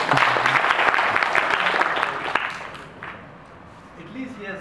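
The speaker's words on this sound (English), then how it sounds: "Give him a round of applause." A lecture-hall audience bursts into dense clapping that holds for a couple of seconds, then thins out and fades, with a voice talking underneath near the end.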